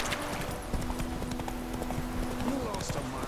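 Horse hooves clip-clop steadily on a path in The Witcher 3 as Geralt rides his horse Roach, a continuous trotting rhythm under ambient game sound and a voice speaking.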